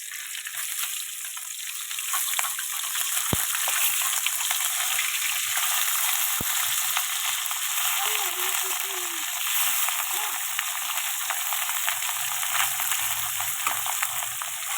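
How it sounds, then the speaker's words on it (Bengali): Steady hiss and crackle of fish frying in hot oil, close and continuous, with a couple of sharp clicks and faint background sounds. "মাছ ভাজা চলছে"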